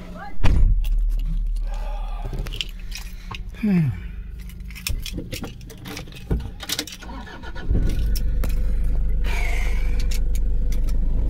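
A car starts and pulls away at the end of a beach outing in Alibag, with keys jangling, a door thud and a rising engine drone settling into a steady idle and drive as people talk in the car.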